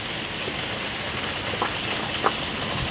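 Rainwater pouring off a roof during a storm, a steady close hiss of falling water with a couple of brief splashy spatters.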